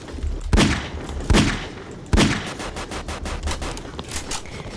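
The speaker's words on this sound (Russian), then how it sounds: "Слышу звуки пушки." Gunfire in the Roblox game Framed! rings out repeatedly, several loud sharp shots followed by rapid bursts of quicker fire, with no talk.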